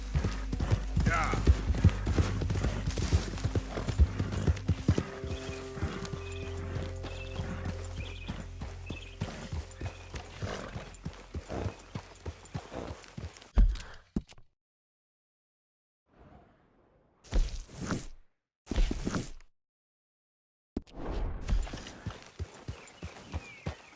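Horse hooves clip-clop steadily in Red Dead Redemption 2, mixed with game sounds and voices, then drop into a near-silent stretch broken by a few short bursts.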